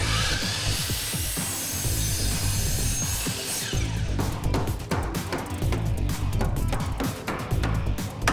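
A power tool drives screws into the wood framing of a house under construction, a continuous buzzing whir with choppy rattling bursts, fairly close and steady throughout.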